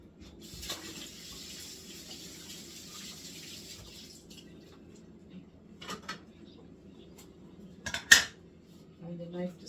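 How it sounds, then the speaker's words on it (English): Tap water runs steadily into a kitchen sink for about four seconds while squash is washed, followed by quieter clinks and handling sounds, a sharp knock near the end, and brief talk. "You wash this."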